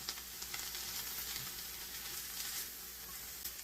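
Cabbage and potatoes fry in a pan with very little oil, giving a soft, continuous sizzle with faint crackles throughout and no talk.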